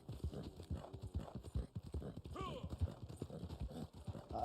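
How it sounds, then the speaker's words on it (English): Black Arabian horse hooves clip-clopping in the video game Red Dead Online, a steady rapid run of close hoofbeats throughout, with a brief whinny midway and a voice talking over it. "This is the Black Arabian horse."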